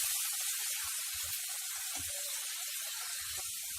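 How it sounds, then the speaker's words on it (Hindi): Onion paste frying in oil, cooked down for spicy dum arbi (taro root), gives a steady, even sizzling hiss that holds at a constant level throughout with no speech. "इसको हम लाइट ब्राउन होने तक हम इसे फ्राई करेंगे।"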